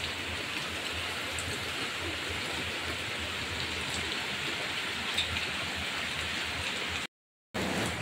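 Heavy monsoon rain pours steadily in a Konkan village, a dense, continuous hiss that stays loud from start to finish, broken only by a short gap of silence near the end.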